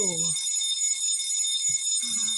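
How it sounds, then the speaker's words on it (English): A shrill electronic alarm rings continuously with high piercing tones, while a voice briefly speaks over it at the start and near the end. "Oh, that's my alarm."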